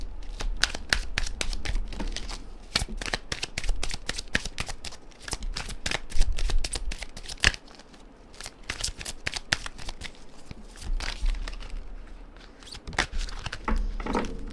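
Tarot cards from the Stardust Tarot deck are shuffled and handled close up, a dense run of riffling, flicking and sliding card sounds with brief pauses.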